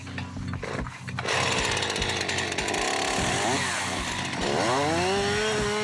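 Chainsaw cutting in a Vosges forest during a level-2 chainsaw certification course, loud and close, the engine revving and dropping in pitch through the cut with rising whine at the end, a voice briefly heard.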